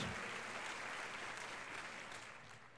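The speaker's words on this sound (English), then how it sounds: "May I ask another round of applause for Swami Paramananda and his team" An audience at a Yoga Day celebration held at the United Nations gives a steady round of applause after a yoga performance, dense continuous clapping from a large crowd that holds and then tapers slightly at the end.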